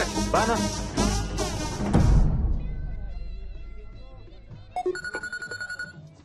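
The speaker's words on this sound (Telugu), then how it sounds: "నా జ్యోతి లక్ష్మికి ఫోన్ చేస్తా" A phone rings on an outgoing call: a few short, bright electronic tones pulse near the end, after music fades away.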